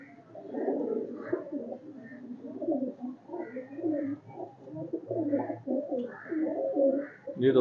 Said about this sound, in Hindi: ये दोस्तों ये मेरे बहुत पुराने कबूतर चुए भी जी